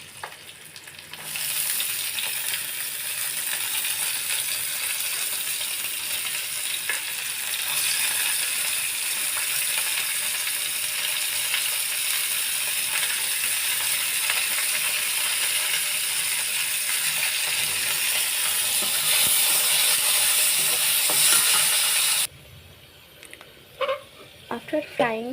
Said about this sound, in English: after frying French beans with onion